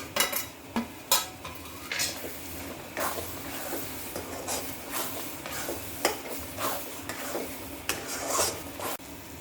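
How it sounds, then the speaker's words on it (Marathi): Mutton masala sautéed in oil in a pan, a spatula rasping and scraping against the metal in repeated uneven strokes over a soft continuous sizzle, close and without talk. "असा तेल सुटेपर्यंत आपण हा मसाला परतून घेतला"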